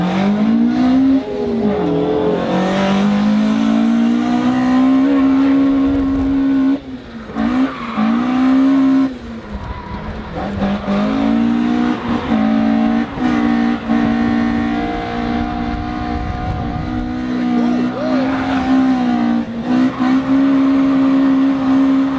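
Toyota AE86 Corolla engine held at high revs and bouncing off the rev limiter in a steady stuttering drone at a festival, with brief dips and squealing tires, loud and close throughout.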